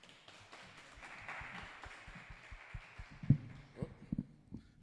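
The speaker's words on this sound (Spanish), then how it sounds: "Les invito a recibirlo con un aplauso." Audience at an event clapping to welcome a speaker, soft scattered applause with a few sharper claps standing out and faint voices underneath.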